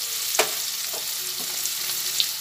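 Potatoes frying with turmeric in a pan for a vegetarian potol-potato curry give a steady close sizzle, with a few soft utensil scrapes and knocks breaking through at intervals.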